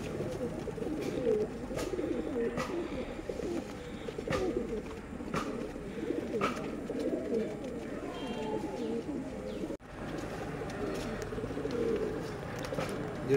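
A pair of Teddy pigeons coo softly and repeatedly in a continuous low murmur, with other birds chirping faintly in the background and a brief drop partway through.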